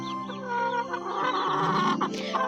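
Chickens on a home farm, hens cluck continuously and fairly close, with overlapping calls and fluttering.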